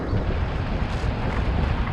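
Strong wind buffets the microphone in a steady, loud roar of low rumbling noise, continuous and without pauses, with no voices.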